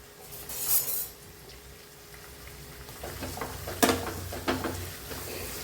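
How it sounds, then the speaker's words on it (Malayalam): Ivy gourd and curry leaves stirred in a pan, giving a soft sizzle with scraping and clinks of a spoon against the pan, quiet and close with a few sharper knocks. "ഇനി ഇതൊക്കെ നന്നായി ഒന്ന് ഇളക്കി കൊടുക്കാം."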